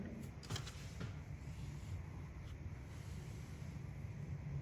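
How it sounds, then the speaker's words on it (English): Rainwater pours steadily down from an overflowing roof gutter, a continuous close rushing and splashing wash that stays even throughout without a break. "Water that's pouring down."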